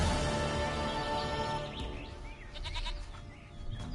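A goat bleats in The Witcher 3 video game, its wavering cries rising midway through over a dense bed of ambient game sound and background music, with no speech.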